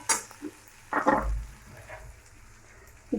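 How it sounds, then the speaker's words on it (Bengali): Onions frying in oil in a pan give short bursts of sizzling and stirring scrapes between quieter gaps, close and fairly loud. "এদিকে আমাদের হালকা পেঁয়াজটা ভাজা হয়ে গেছে"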